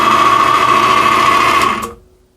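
Lortone TS10-C trim saw motor running with its drive belt tensioned, a steady loud hum with a sustained tone that cuts off abruptly near the end, leaving a faint fading whir.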